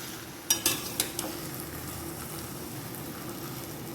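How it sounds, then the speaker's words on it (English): A spoon stirs tomato bath with coconut scraps in a pan, giving a few quick scraping clinks early on over a soft, steady sizzle. "Now again stir it."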